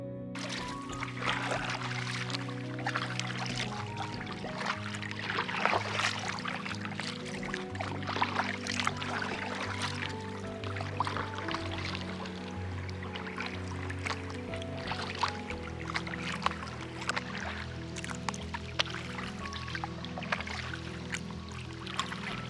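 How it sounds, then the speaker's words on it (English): Waves washing onto a shore in a steady, continuous rush and trickle, with a sustained musical drone of shifting tones layered underneath throughout. "There's something so enchanting about waves reaching the shore."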